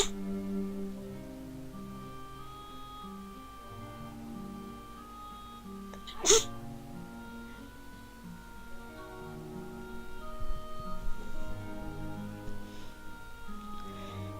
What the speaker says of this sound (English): sorry about that, was sneezing.